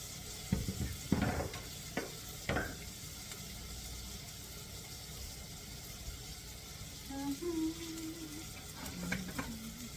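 A golden onion sautés in a pan, sizzling steadily while a utensil stirs with a few scraping knocks. Faint voices come in briefly toward the end.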